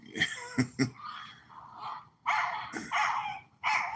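Dog barking at a passerby, a series of loud, close, rough barks and growly bursts in irregular clusters, with no talk over them.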